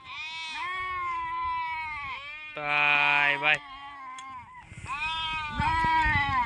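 Goats bleating repeatedly and close by in a rural hillside setting, wavering cries overlapping one another, with a person's voice briefly breaking in between them.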